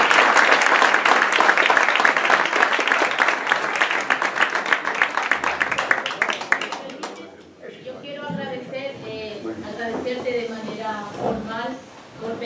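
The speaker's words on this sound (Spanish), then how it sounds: "creo que debemos un aplauso por poder trasladar esa cultura a nivel mundial" An audience bursts into loud, sustained applause for about seven seconds, then it cuts off and a single voice begins speaking over a quiet room.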